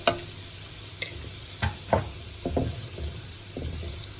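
Cumin seeds sautéing in hot oil for a dhaba-style urad dal tadka give a steady soft sizzle, with a few short stirring scrapes and clinks across the stretch.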